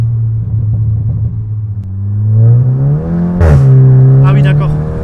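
A tuned Seat Cupra 5F with a stage 2+ engine making 420 hp accelerates, its engine note climbing steadily and loud from inside the car, with a brief sharp burst midway. Voices speak over it.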